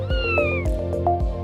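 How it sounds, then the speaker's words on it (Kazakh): A cat meows close and clear: one long drawn-out call followed by a few shorter ones, set over a light, steady musical backing with soft rhythmic thumps. "Мысық мияулайды."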